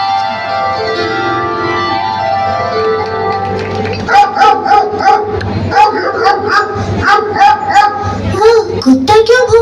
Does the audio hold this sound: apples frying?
no